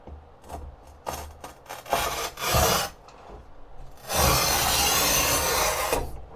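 A manual tile cutter scores a ceramic tile for an angled cut, giving close, dry rasping strokes that start as short scrapes and end in one long, steady grinding pass.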